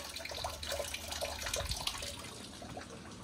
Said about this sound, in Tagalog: Yan ang tubig namin, guys.